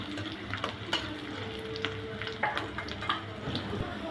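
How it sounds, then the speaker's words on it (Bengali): Chopped onion with garlic and chili fries in a pan for tomato chutney, a soft continuous sizzle broken by light stirring scrapes and crackles, close and fairly quiet. "পেঁয়াজটা আমি লাল লাল করে ভেজে নিব।"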